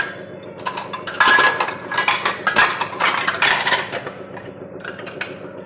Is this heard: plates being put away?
yes